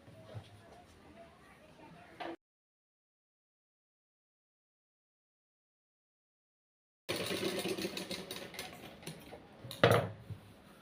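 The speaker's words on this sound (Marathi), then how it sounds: "आता मी हे इथून शिलाई मारून घेते" A sewing machine stitches a cut piece of lining fabric, its dense mechanical clatter running in bursts before and after a stretch of complete silence.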